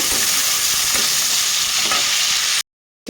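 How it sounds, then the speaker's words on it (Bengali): Onions fry in a pan with a loud, continuous sizzle and the occasional scrape of stirring close by, stopping abruptly near the end. "তো পেঁয়াজটা একটু হালকা ভাজা করে নেব"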